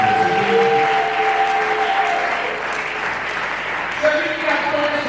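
A congregation at a French-language church service applauding, sustained dense clapping filling the whole stretch while a voice and some tonal sounds carry over the top.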